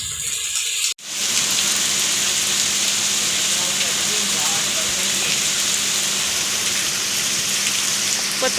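After a short break, rainwater pours and splashes off clay roof tiles and tin sheets at a Gujarat farm home. A loud, steady rushing downpour continues without letup for the rest of the stretch.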